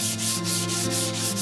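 Hand sanding of a wooden cabinet: close, rhythmic back-and-forth rasping strokes, about six in quick succession, loud and steady with no talk.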